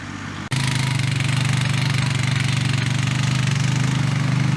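A tractor engine pulling a tined drag over a food plot, a loud, steady, close engine drone with a rhythmic knocking pulse that kicks in abruptly after a brief quieter start.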